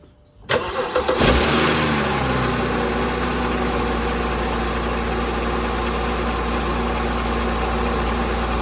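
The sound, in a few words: car engine starting and idling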